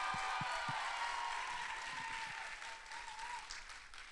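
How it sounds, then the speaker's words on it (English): An audience at a live Friday evening event program applauds, a soft, distant wash of clapping that holds steady and gradually fades over a few seconds, with no talking. "Can we give a round of applause for her?"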